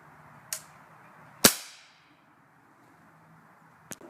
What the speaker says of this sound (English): we're going to be shooting the Gamo Hunter from 10 feet away using my Daisy Powerline 1000